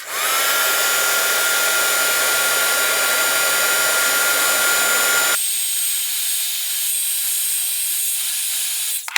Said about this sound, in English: Next, I'm just going to take my heat gun and heat the edges.